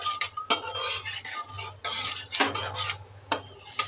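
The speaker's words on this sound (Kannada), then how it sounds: "ಎಣ್ಣೆ ಬಿಟ್ಟು ಜೀರಿಗೆ ಹಿಂಗೆ ಹಾಕಿಬಿಟ್ಟು ಈರುಳ್ಳಿ ಹಾಕಿದ್ದಾರೆ" Onion frying with cumin in oil for bhindi (okra) palya, a Karnataka dish: a steady sizzle in the pan, with repeated bursts of utensil scraping and stirring clatter, close and fairly loud, no voices.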